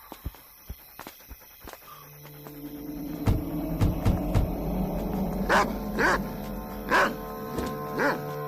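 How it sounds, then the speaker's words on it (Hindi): A dog barks repeatedly in short, loud bursts spaced a second or so apart, with whimpering yips and footsteps mixed in, while people talk nearby. "ये आज इतना भौंक क्यों रहा शायद है?"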